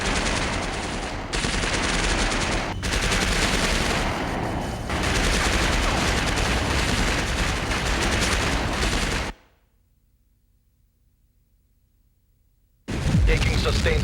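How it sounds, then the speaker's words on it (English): Gunfire from a PC combat video game shown at E3 2004: sustained rapid bursts and heavy firing fill most of the stretch, cut off abruptly into near silence before resuming loudly at the end. "Taking sustained fire."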